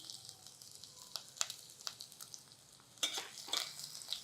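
Thin slices of garlic and ginger fry gently in a pan, a soft, quiet sizzle with scattered brighter pops and crackles that grow a little louder toward the end, with no talking.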